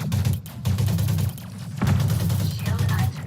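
A grenade blast and bursts of gunfire in a video game firefight, dense and loud with booming low rumble and rapid crackling shots filling the whole moment, a voice briefly underneath.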